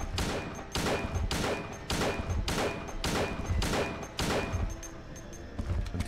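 Repeated gunshots fired in the survival horror video game Silent Hill, a steady run of loud, close bursts roughly every half second to second, one after another over several seconds with no talking.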